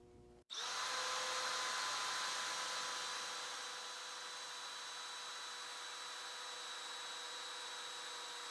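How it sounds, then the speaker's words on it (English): A power drill fitted with a Triton bit spins up loudly and runs steadily with a high whine as it bores down to a drill stop on a stretcher drilling guide, sounding close and alone. "and then we drill till we hit our stop."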